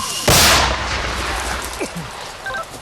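A single loud, sharp mortar blast booms out near the front line by Robotyne, followed by a rumbling echo that fades over a couple of seconds with faint outdoor noise.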